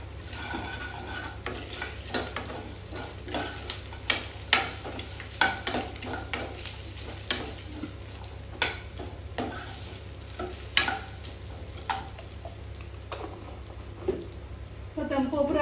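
Turmeric goes into a hot oil tempering for mango pulihora, giving a steady close sizzle broken by frequent sharp spoon scrapes and clinks against the pan over about fifteen seconds.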